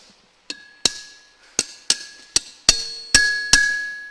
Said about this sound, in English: The sound of the anvil.